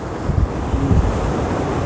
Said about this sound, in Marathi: बंधाऱ्यावरून पाणी वाहत आहे